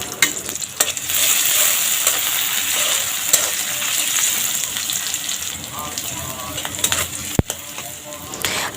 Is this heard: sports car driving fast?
no